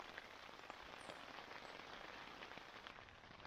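Rain pattering steadily on a Lanshan pyramid tent with a 15D silicone-coated fly, a soft even hiss of drops on the fabric, quiet and continuous with no talk.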